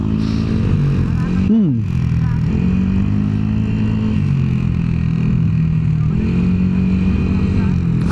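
A motorcycle cruises along an open road on a ride from Tagaytay to Batangas, its engine droning steadily with wind rush, while riders talk over the noise.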